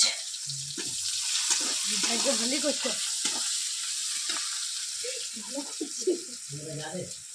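Onion and ginger paste fry in hot oil, a bright sizzling hiss with stirring, in a village kitchen cooking over a wood fire; a voice talks over much of it.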